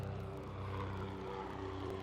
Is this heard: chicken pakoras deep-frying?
no